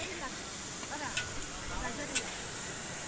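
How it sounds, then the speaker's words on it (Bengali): Cabbage sizzling in hot oil in a kadai while being stirred, a steady low hiss with faint scraping and a couple of brief clinks, quiet and continuous. "তাই কড়াইতে হচ্ছে পাতাকপি ভাজা"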